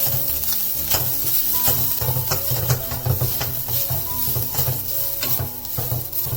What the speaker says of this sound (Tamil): இதுல தேங்காவை சேர்த்துடலாம். இது நல்லா வதக்கிக்கலாம்.